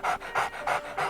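A small dog pants quickly and close up, four rhythmic breathy puffs in about a second, used as a sound effect in an audiobook reading.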